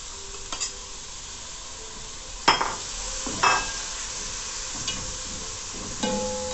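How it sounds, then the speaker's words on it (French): Saffron is stirred into a cooking pot of chicken with red lentils and diced tomatoes: a steady frying hiss with a few sharp scrapes and clinks of the spoon against the pot, close and with no voices. "Ensuite, je mets une cuillère à café de safran. Je mélange bien."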